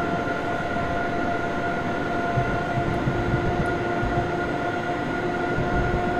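ICE train rolling along a line near Berlin in Train Simulator 2016, a steady loud rumble with a droning hum and faint tonal whine running throughout, no voices.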